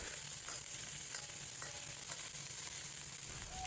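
Ginger slices and scallion pieces stir-fry in a little hot oil in a wok, giving a steady, soft, continuous sizzle with faint scraping, alone and without voices.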